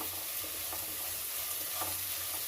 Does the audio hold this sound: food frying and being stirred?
yes